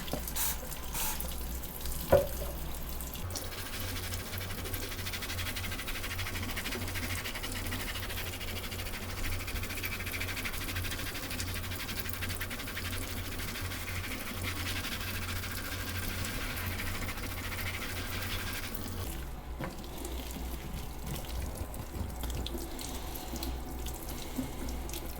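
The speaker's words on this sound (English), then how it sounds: "We'll use some Dawn dish soap, wash this off, and then get it nice and dry." A plastic Bronco part being washed with Dawn dish soap under a running tap, steady rushing water splashing into a sink for most of the stretch, close and continuous, with a brief change in the flow near the end.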